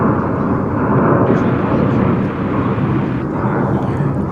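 An American Airlines Airbus A321neo at DFW Airport, a loud, steady broadband engine roar filling the whole clip, close by and unbroken.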